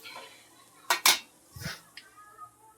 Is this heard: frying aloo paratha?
yes